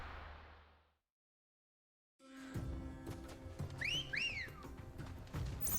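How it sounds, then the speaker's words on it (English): A whistle blown in the video game Final Fantasy XVI, two short rising-and-falling tones heard close over game music and ambient sound after a brief silence. "Love just that stupid whistle."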